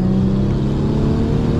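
Car with Z1 long tube intakes running loud and close, a steady throaty engine rumble with slight revving, no voices.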